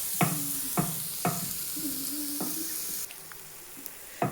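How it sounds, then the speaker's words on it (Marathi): Grated fresh coconut and sugar are stirred in a hot pan, a soft sizzling bed broken by a series of sharp spoon scrapes and taps against the metal, close and fairly quiet with no talking. "साखर आणि नारळाचा खीस छान घेऊयात मिक्स करून"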